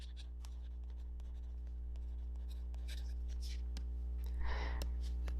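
A thin mechanical pencil-style stylus writes on a Remarkable Paper Pro e-ink tablet, making soft scratchy strokes close up over a steady low hum, with one brief louder scrape near the end.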